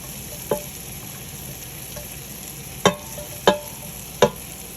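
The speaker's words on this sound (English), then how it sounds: "we're gonna put all these onions in here" Onions sautéing in an Instant Pot with a spoon, a steady low sizzle and hiss running throughout, broken by a few sharp clinks and scrapes of the spoon against the metal pot, with no talking.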